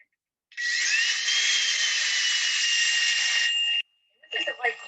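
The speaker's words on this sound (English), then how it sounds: "It fills up the drill bit because it's wet, it's alive." A power drill bores into live, wet wood during bonsai branch and root thread grafting, giving a steady, loud whine of about three seconds that stops abruptly, followed by brief clattering handling noises.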